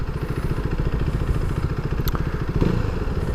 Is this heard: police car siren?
no